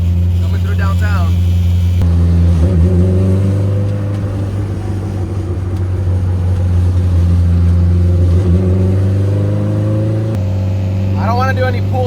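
A stock-transmission car with a broken camshaft rolls over a bumpy downtown brick road, its engine droning low and steady while the tyres rumble and jolt over the bricks, with someone talking over it.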